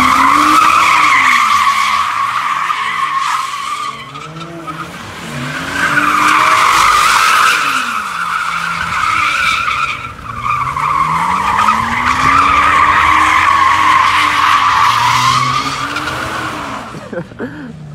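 Car tires skidding and squealing at a street car meet takeover, long loud wavering screeches with a revving engine, rising and falling in repeated bursts close by, crowd noise underneath.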